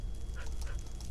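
A dog barks and yips a couple of times in the Lego Island video game, short tonal yelps heard moderately faint over a steady low background hum.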